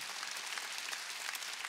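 Congregation clapping together during a Wednesday church service, a steady dense patter of applause filling the hall with no voices over it.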